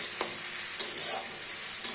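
Ash gourd curry is stir-fried in a pan with a steady close-up sizzle. A few short scrapes and taps of a spatula cut through it.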